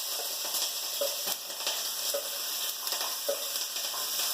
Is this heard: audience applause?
no